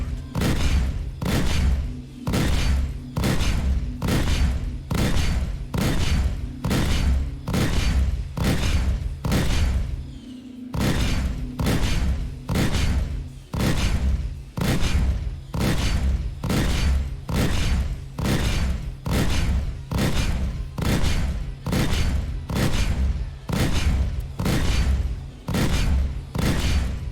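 Rapid, rhythmic bursts of gunfire pound a ship's head shield in a space combat game, loud and relentless, with one short pause around the middle before the barrage resumes.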